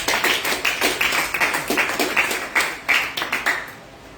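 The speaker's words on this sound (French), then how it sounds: "Acclamons le Seigneur pour Julie" Rhythmic applause from a church congregation acclaiming Julie, a steady run of sharp claps close by, continuing evenly for several seconds with no talk.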